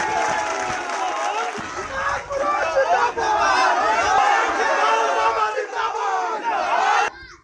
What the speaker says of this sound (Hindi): उस माँ के नाम में एक जोरदार ताली हो जाए